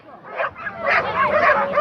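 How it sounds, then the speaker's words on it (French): A dog at a canicross race event gives a string of excited high yips and whimpering barks close to the microphone, the calls rising and falling over about two seconds. "Et avec Jayande, un super toutou là, qui va être accroché devant la Joëlette et super obéissant."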